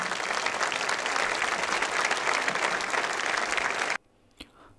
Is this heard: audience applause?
yes